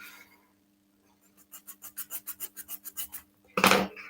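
Hand-sanding small wooden parts of a Titanic model: a run of about ten quick, rhythmic rasping strokes, close and faint, ending in a louder scrape, with no talking.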